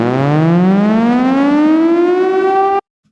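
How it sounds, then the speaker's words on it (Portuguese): A loud civil defense siren signalling all hope is lost in a nuclear winter, its wail climbing steadily in pitch for nearly three seconds before cutting off abruptly into silence. "é uma sirene de quando toda a esperança está perdida"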